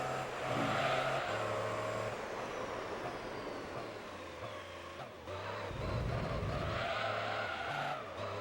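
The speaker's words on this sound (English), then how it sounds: "No way, this car slid off the road." A Pagani Zonda in Gran Turismo 3: A-Spec skids and slides with tires screeching over a loud, continuous engine roar that shifts pitch through gear changes, with no voices.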